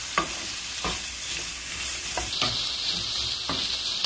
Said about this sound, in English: And continue to stir until the fragrance comes out from this white onion.